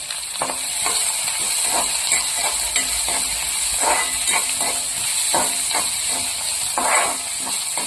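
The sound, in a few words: onion sautéing in a pan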